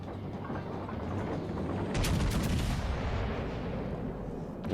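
Heavy naval gun salvo from a ship in World of Warships Legends, a booming broadband blast near the two-second mark that rolls out over a dense, steady battle rumble, fairly loud and continuous.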